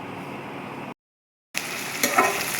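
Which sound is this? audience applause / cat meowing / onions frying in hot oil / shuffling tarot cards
onions frying in hot oil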